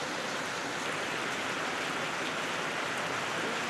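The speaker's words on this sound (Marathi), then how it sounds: "एकीकडे सायन परिसरात पुन्हा एकदा पावसाला सुरुवात झाली आहे" Steady rain falls across the Sion area of Mumbai, a dense, even hiss of drops with no pauses, heard from a short distance.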